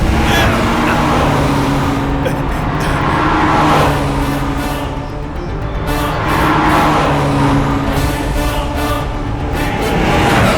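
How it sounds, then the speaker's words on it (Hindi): Steady car engine rumble with vehicles passing by, traffic noise swelling and fading continuously throughout. "ये गाड़ी की आवाज यहाँ कैसे?"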